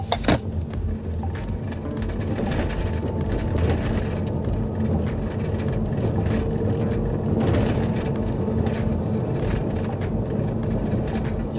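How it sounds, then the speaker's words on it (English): A hybrid car speeds up in EV Plus mode, running on battery power alone. A steady, broadband drone of road and cabin noise holds across the run, with a faint electric whine rising beneath it and no voices. "One more acceleration run."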